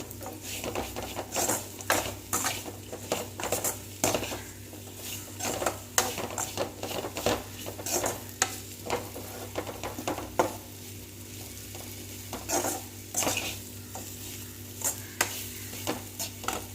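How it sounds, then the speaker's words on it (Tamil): Potatoes for a Tamil potato fry being stirred and tossed in a pan, with a spatula scraping and tapping rhythmically over a faint sizzle. "ஆட் பண்ணிவிட்டு அதை அப்படியே நல்லா மிக்ஸ் ஆகிற மாதிரி நல்லா ஒரு பிரட்டு விட்டுக்கலாம்"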